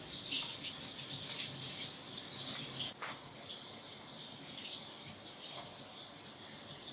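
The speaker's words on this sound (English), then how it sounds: "wash them under hot water" Hot water runs steadily from a tap over canister elbow parts being washed, a continuous close hiss of flowing water with a brief dip partway through and no talk.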